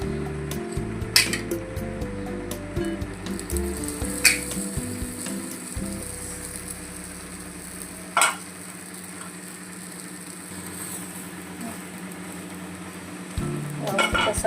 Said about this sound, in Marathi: मस्त असं तेल लावून खालनं वरनं दोन्ही साईड व्यवस्थित भाजायचे